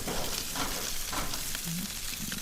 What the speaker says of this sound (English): Look at those catfish. Look at the sizzle.